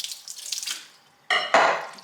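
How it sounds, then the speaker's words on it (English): Homemade butter is rinsed under a running cool-water tap, the splashing coming in bursts, fading briefly, then returning louder and closer. "now we're going to wash it under cool water"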